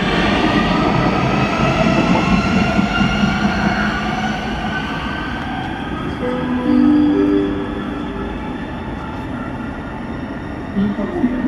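A metro train rumbles steadily at a station on Warsaw's M2 line, loud rolling hum, brief squealing tones from the wheels or brakes midway, close and continuous throughout.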